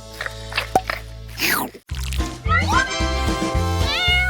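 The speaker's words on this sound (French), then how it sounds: "Voyez le chaton roux le plus mignon du monde." A kitten's high meows repeat over a few seconds, with some wet squishy handling noise and a low steady hum underneath.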